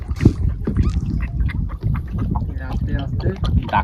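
A large river fish just caught in the Sundarbans makes rough, croaking, honk-like calls in quick repeated bursts, close by and mixed with people talking.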